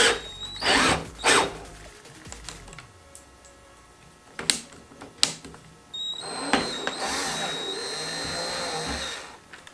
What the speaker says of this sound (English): 25/64 drill bit and drill right through that again